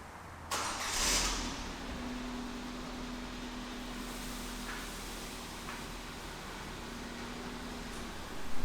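A car engine cranks and catches near the start, then settles into a steady, fairly quiet idle with a faint tonal hum running throughout, no voices.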